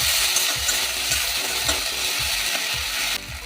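Ginger and chilli paste sizzling in a pan for a cauliflower and fish ghonto, a bright continuous hiss broken by regular scraping stirs about every half second, close and fairly loud with no talking.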